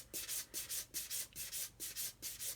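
An 800 grit sponge is rubbed back and forth over a 1/72 scale Airfix Vulcan plastic model, a soft rhythmic scrubbing of about ten even strokes, close and quiet, with no talk.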